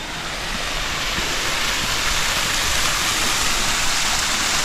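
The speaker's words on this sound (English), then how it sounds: "There's a little waterfall there." A small waterfall near a little dam among old stone stairs in Phuket, Thailand, gives a steady, dense rushing of falling water that stays loud and even throughout, with no voices.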